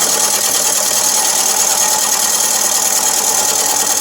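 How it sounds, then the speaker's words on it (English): A wood lathe turns a natural-edge wooden bowl as a tool takes material off, producing a loud, steady, unbroken whirring hiss with no talking. "I'm probably taking probably a quarter inch off this piece of wood."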